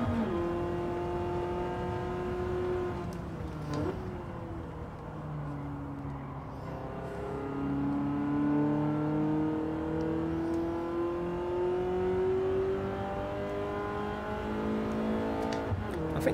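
A BMW race car engine in Gran Turismo 7 holds a steady, loud drone with pitch sweeping down and then slowly climbing through gear changes, a continuous close engine tone with no voices.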